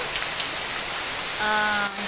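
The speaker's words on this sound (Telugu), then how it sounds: "You can see clearly how heavy rain it is." Heavy rain pours down in a dense, unbroken hiss, with a faint tonal hum rising briefly near the end.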